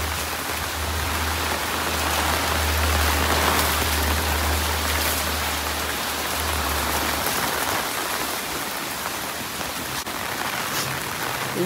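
Steady rain from Cyclone Fengal falls on surfaces in a home garden in Chennai, a continuous dense patter with a low rumble underneath and no voices.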